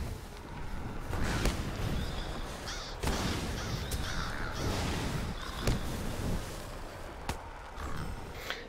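A crow in the video game Lord of the Rings Online caws several times over a dense, rumbling game soundscape with sharp thuds.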